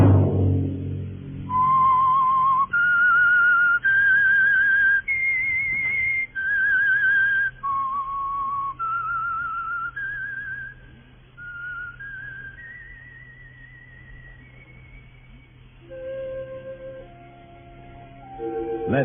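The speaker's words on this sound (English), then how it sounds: "Let that whistle be your signal for the Signal Oil program, The Whistler" A lone whistler performs the eerie theme signal of the radio mystery show The Whistler, a slow, clear melody of sustained notes rising and falling over nearly twenty seconds, preceded by a brief low rumble.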